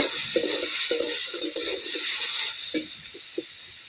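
Hilsa fish sizzling in mustard oil in a pan, a steady frying hiss with short bursts of bubbling and spatter, heard close.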